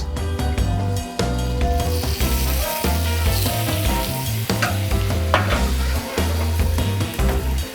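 Steak searing in a hot oiled pan over coals, a continuous loud sizzle close up, partly buried under a prominent rhythmic music bed.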